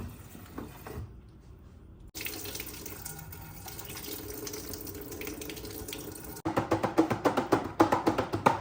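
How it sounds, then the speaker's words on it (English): Kitchen tap water runs steadily over salad greens being rinsed, close and continuous, then turns to a louder, choppy splashing near the end. "Now that I have all of this in here, I'm going to rinse it and then dump the water out."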